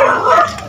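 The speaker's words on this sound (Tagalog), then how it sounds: "Aso." A dog gives a single short bark or yip, loud and close, lasting under a second, with no talk over it.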